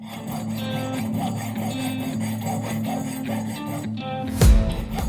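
A fine jeweler's saw, size 00 blade, rasps back and forth along a marked line on a handmade ring, a steady close scratching with a brief louder knock near the end.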